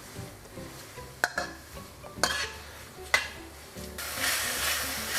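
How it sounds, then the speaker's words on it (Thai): Minced pork stir-fried in a pan for northern Thai larb khua, with a few sharp spatula knocks against the pan, then a steady broadband sizzle that swells toward the end, close and fairly loud. "พอผัดจนน้ำมันแห้งนะครับ ก็ให้รอน้ำมันมันออกมานะครับ"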